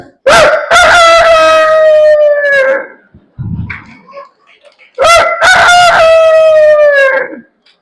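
Human voice imitating a rooster's crow, two long loud cock-a-doodle-doo calls separated by a short pause, close and clear, performed during a spiritual talk in a hall.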